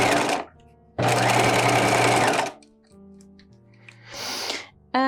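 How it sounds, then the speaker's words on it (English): A sewing machine stitches around the neckline of a bodice in two loud, steady bursts of rapid mechanical whirring, the second about one and a half seconds long, with softer handling noises and a brief shorter run near the end. "So I'm going to stitch all the way around this neckline."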